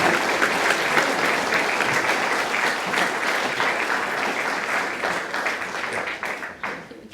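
Warm, sustained applause from an audience at an awards celebration for prize winners, a dense wash of many hands clapping that holds steady before thinning out toward the end.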